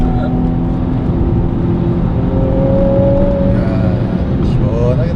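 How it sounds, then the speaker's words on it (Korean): An Infiniti Q60 S accelerates with a smooth rising exhaust note blended with rushing wind noise inside the cabin, the engine tone climbing steadily and loud throughout. "이게 바람 소리도 많이 좀 들어다 보니까 네. 그 소리랑 배기 사운드랑 어우러져가지고 굉장히 시원한 소리가 나요"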